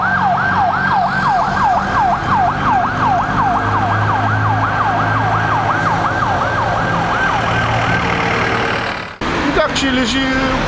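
An ambulance siren wails on a road, its rising-and-falling two-tone cycle repeating steadily and loudly for about nine seconds before a sudden cut and clatter, with traffic rumble underneath.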